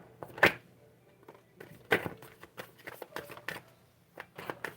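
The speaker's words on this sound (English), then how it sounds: "I'm going to shuffle one more time and then we'll go through them." A deck of playing cards shuffled by hand, with soft scattered flicks and snaps at close range and a few sharper riffles, no voices.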